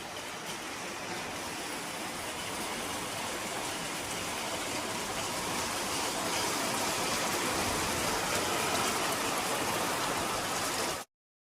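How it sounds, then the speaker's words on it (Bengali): Steady rain falls on a rainy night, heard from a veranda as a dense, even hiss that holds at a constant level throughout, with no voices. "বৃষ্টি শুরু হয়ে গেছে"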